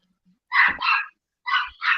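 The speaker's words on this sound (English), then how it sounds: "they said they heard the dog barking" A dog barks four times in two pairs, loud and close, with short gaps of silence between the pairs and no voices over it.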